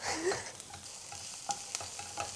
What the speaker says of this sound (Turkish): soğanlarımızı kavurduktan sonra şöyle yeşil soğanlarımızı ekliyoruz